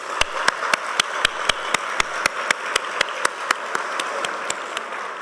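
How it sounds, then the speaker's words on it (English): An audience applauds steadily, with one sharp, evenly spaced clap standing out close by over the wash of clapping. "Please join me in a round of applause and thanks for the panelists."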